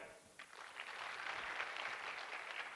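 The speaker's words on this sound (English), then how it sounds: "Clap for him." Applause rises from an audience at a manual therapy lecture, the clapping swelling after a brief pause and continuing as a steady patter.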